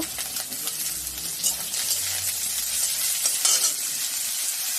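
Potatoes fry in a hot pan with garlic and onion as they are stirred, a constant sizzle broken by scraping stir strokes.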